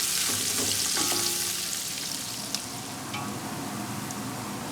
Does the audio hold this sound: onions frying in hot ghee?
yes